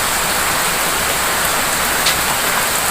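Heavy rain pours steadily outside a house, loud broadband hiss of drops on surfaces filling the whole clip, constant and unbroken with no voices.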